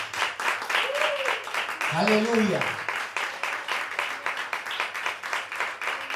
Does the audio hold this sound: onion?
no